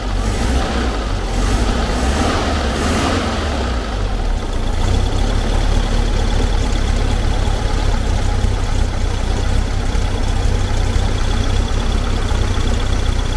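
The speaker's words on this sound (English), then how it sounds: "See the way it's, bogging down." Engine of a VW camper running with a rough, loud, continuous low rumble that sags and labours as it bogs down, heard close with no talk over it.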